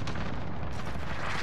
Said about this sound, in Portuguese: Cuidado, mandei granada.